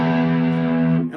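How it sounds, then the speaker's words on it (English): A distorted electric guitar riff played through a Blackstar practice amp, loud and sustained with ringing power-chord tones that fade out at the end, no talking. "All right, so the way the opening riff goes, it sounds kind of like this."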